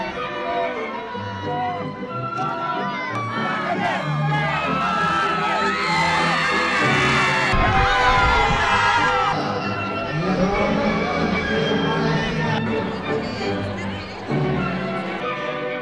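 A townspeople crowd at a public historical reenactment of a period festival cheers, shouts and whoops continuously, loud and close, with children's yells and a swell of excitement in the middle.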